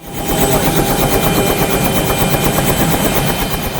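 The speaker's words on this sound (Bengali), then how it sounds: "সকাল থেকেই উদ্ধার তৎপরতা শুরু করে প্রবাসীর হেলিকপ্টার" A rescue helicopter flies over flooded Feni, its rotor beating in a loud, fast, steady chop close by, with no voices.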